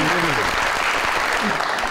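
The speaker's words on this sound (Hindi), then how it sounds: "अरे क्या बात है, तालियां भाई।" Loud, continuous studio audience applause on a talk show, a thick wash of clapping with a voice briefly heard over it near the start.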